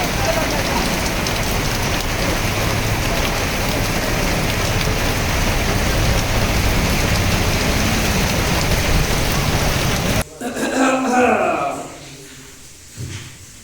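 Steady, dense rain pours down for about ten seconds, then cuts away to quieter sounds with some faint activity.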